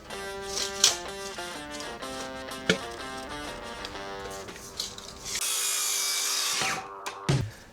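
A power drill drives screws into a roof beam indoors, a tonal motor whine rising and stepping in pitch, broken by knocks and bumps, then a rougher, louder grinding stretch near the end.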